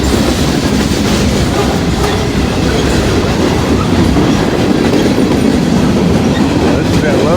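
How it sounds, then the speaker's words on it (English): A local freight train passes with a DPU locomotive on the rear. A loud, close, continuous rumble of rolling wagons carries a steady clickety-clack of wheels throughout. "This is that local I see down in Hamilton with the DPU on the back."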